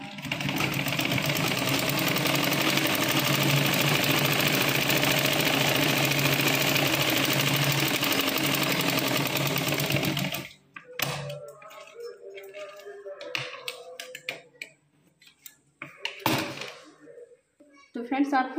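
A sewing machine stitches a blouse collar, running in a steady buzzing whir for about ten seconds before stopping, then a voice talks with a few light clicks and handling noises.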